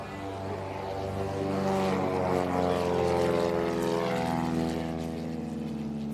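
Propeller airplane engine droning steadily through a winter flight over the frozen St. Lawrence in Québec, a continuous loud hum with layered harmonics that swells slightly mid-way and holds, with no voices.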